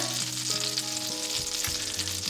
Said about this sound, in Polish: Na rozgrzaną patelnię wrzucam masło. I tłuszcz już jest rozgrzany.